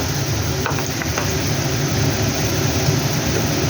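Potatoes frying in oil for a Bengali ridge gourd, potato and poppy seed dish, a loud, continuous sizzle with a few faint clinks early on as poppy seeds and turmeric go in.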